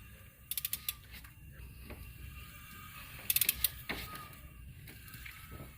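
A 3.6 V6 engine's timing chain gives small metallic pops and ratcheting clicks, two short clustered bursts of sharp snaps over a faint mechanical background, close but quiet.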